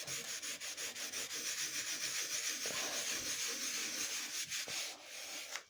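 Someone scrubs a stain hard with bicarbonate of soda and lemon, producing steady, rhythmic back-and-forth rubbing strokes, close and continuous throughout, with no talk over them.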